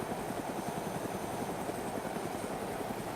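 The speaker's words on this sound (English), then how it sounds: "The helicopter's frozen for me." A helicopter in the DayZ video game gives a steady, continuous rotor and engine drone that holds at an even level throughout, with no talk over it.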